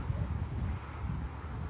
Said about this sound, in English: The wind is gusting.